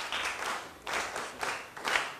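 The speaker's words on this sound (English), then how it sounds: "Let's try to clap for him." Schoolchildren in a science classroom clap for a classmate in three or four short, loud bursts of group applause separated by brief pauses.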